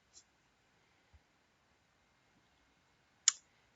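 A computer mouse clicks sharply a few times, faint early taps and one louder crisp click near the end, in a quiet room.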